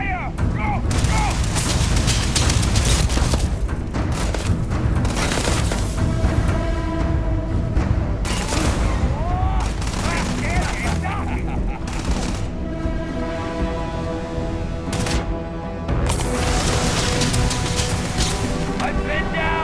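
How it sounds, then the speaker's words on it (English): Dense gunfire rattles through a video game battle, with sustained bursts of shots and heavy booms, loud and close, while soldiers shout over the firing. "Open fire! Covering fire!"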